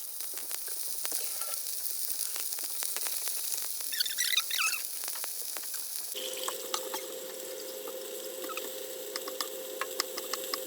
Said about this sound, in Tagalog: natin siya i-prito muna yung yung chicken breast